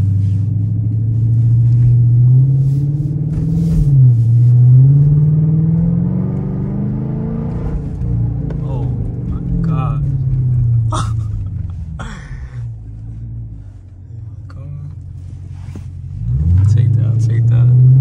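A Dodge Charger R/T with a mid-muffler delete revs repeatedly. Loud, deep engine swells climb and drop in several pulls, and a person talks between them.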